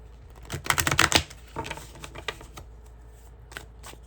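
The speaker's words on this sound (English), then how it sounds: "Give it another shuffle." A quick burst of tarot cards being shuffled, crisp riffling clicks near the mic, then a few softer scattered taps and handling sounds.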